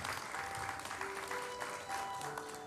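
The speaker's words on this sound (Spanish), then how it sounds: "el señor Luis Antonio Monterrey Muñoz, para quien pido fuerte los aplausos" Guests at a quinceañera celebration in Lima, Peru, applauding steadily, a dense indoor clatter of many hands that holds at a constant level throughout.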